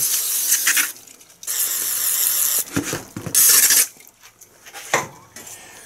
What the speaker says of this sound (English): Now I'm just going to kind of spray this down as well with some brake parts cleaner